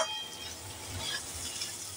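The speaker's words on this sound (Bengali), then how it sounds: "এটা ভাজা হয়ে যাচ্ছে" Pointed gourds frying in a pan over high flame for a stuffed gourd dish, producing a soft, steady sizzle with faint stirring, fairly quiet and brief.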